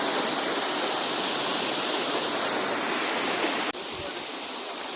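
Rupali waterfall in Bandarban, Bangladesh, pours in a loud, continuous rushing roar of flowing water that fills the scene, dipping briefly near the end before carrying on.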